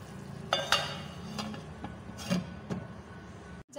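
Peas stirred in a cooking pot with a spoon, soft scraping strokes over a steady low simmer or sizzle, a few sharper clinks of the spoon against the pot's side.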